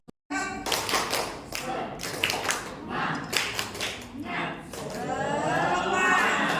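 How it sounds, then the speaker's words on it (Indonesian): A group does a rhythmic spirit-clap at a school positive-culture training session, sharp claps in quick patterned bursts, close and loud, with voices and children's chatter mixed in. "tepuk semangat dulu"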